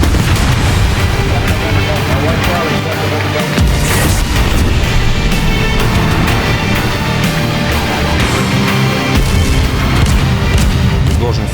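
Battleship guns fire in World of Warships aboard the USS New Jersey, a dense, loud barrage of booming shots and blasts with no break, over a constant rumble, while a voice talks over it.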